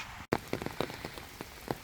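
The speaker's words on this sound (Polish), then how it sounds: "Mógłbym rzec, że nawet tak mocniej zaczęło padać." Rain patters on a hard surface nearby, with scattered louder drops tapping irregularly over a steady wet hiss.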